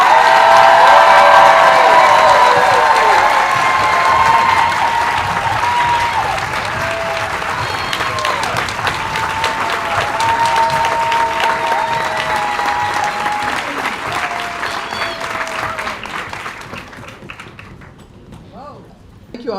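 Loud audience applause fills a hall as speakers come out on stage for a conversation on The 1619 Project, with scattered cheers and voices mixed in, sustained for most of the stretch before thinning and fading near the end.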